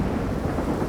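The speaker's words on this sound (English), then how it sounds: "when we go out to shoot, it's raining" Heavy rain pours steadily during an outdoor shoot, a dense, loud, unbroken wash of noise with no voices.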